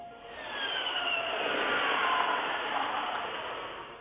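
A smooth, rising whoosh of a Ferrari SF90 Spider hybrid supercar accelerating, a mix of electric whine and airy rush, moderately loud and continuous without speech.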